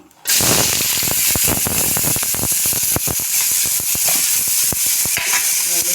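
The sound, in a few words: onions frying in hot oil in a pan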